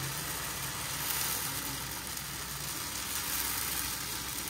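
Dosa batter spread on a hot flat iron griddle gives a steady, even hiss of sizzling that holds at a constant level for several seconds, with no one talking.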